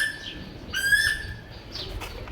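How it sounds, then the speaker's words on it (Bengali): An Asian koel, a cuckoo, calls in a shaded neighbourhood street in spring, its clear whistled notes rising twice at moderate distance over faint ambient background. "কি সুন্দর দেখেছো কোকিল ডাকছে"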